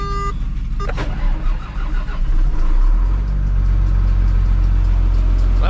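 A manure truck's engine cranks briefly in cold weather, then catches and settles into a loud, steady low idle that carries on close by without any talk.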